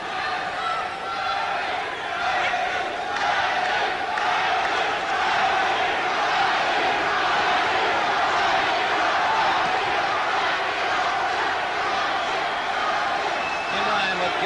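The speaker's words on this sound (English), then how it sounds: "an excited crowd in anticipation of a New Jersey world champion" Excited crowd roaring at ringside before a world featherweight championship boxing bout between Eusebio Pedroza and Rocky Lockridge, a steady dense murmur of cheering voices throughout, with a commentator talking over it.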